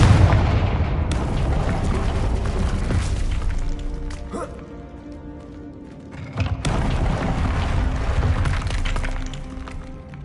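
A Confringo fire spell exploding in the video game Hogwarts Legacy, a loud, broad boom that rumbles on with crackling debris, followed by a second heavy blast and shattering, with no voices over it.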